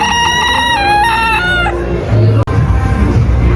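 Chickens of varied breeds cluck and a rooster crows loudly up close at a street food and animal festival in America, followed by a sharp knock and more low clucking.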